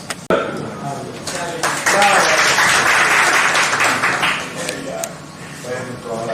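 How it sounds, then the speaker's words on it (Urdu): Applause from a seated audience at a friends' gathering, opening with a sharp click and then building into loud, full clapping that slowly fades over about six seconds. "ایک بار بھرپور تالیاں"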